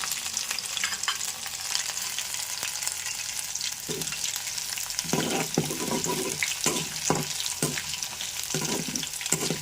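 Mustard seeds hit hot oil while a mango and grated coconut chutney is being tempered, giving a steady sizzle that breaks into bursts of crackling, spluttering pops partway through.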